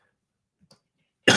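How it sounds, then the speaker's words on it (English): A single person's cough bursts out loud and abrupt at the very end, after near silence broken only by a couple of faint small throat or mouth noises. "I'm getting ready to cough, so hold on one second."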